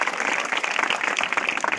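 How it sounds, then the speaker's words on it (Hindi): Vigorous clapping from an audience at a block-level folk dance and cultural programme, a brief, dense burst of applause that stays loud and steady throughout. "जोर जोर ताली"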